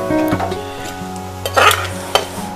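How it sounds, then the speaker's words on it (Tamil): Softened onions tipped and scraped from one pan into another cooking pan, with a utensil clattering against the metal and a sharp scrape partway through over a light sizzle. "இப்போ வந்து நம்ம இந்த சட்டியில் எடுத்து கொட்டிக்குவோம்"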